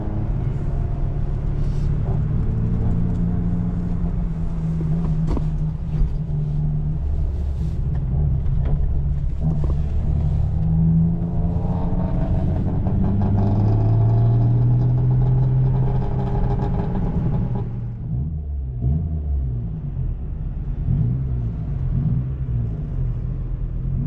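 A drift car's engine with a weak battery is revved to keep it running, a steady low rumble with rising and falling pitch sweeps close by, dropping briefly near the end.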